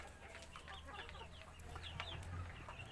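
Several farm chickens cluck softly nearby in the morning, with scattered short calls over a low background hum.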